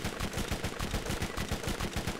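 Rapid, loud, continuous automatic fire from a detonating SMG in the video game Borderlands, a dense rattling burst that keeps going without a break.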